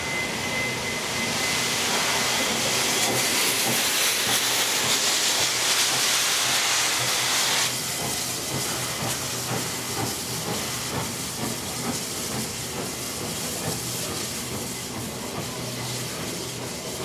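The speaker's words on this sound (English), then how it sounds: "It's now time to see the 36 class loco depart on its first shuttle journey to Gordon" A 36 class steam locomotive pulls away with its train, a loud broad hiss of steam that drops to a lower, rumbling chuff and rolling wheel noise as it departs.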